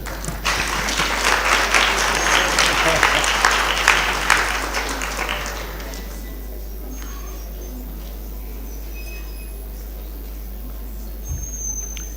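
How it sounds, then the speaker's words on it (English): Lecture audience applauding two speakers in a hall, a dense burst of clapping for about five seconds that fades out into quiet room tone. "Another round of applause to the 2 speakers."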